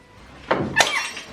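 A new glass Christmas ornament breaks indoors while a tree is being decorated: a short crack, then a brighter shattering burst with tinkling fragments trailing briefly, fairly close and moderately loud.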